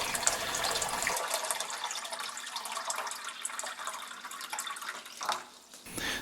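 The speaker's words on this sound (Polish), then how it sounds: "No i teraz zalewamy wodę do pojemnika do wysokości pierwszej kreski." Water pours steadily into the water tank of a De'Longhi Magnifica S coffee machine, a hollow gushing stream that runs for several seconds, then pauses briefly before resuming.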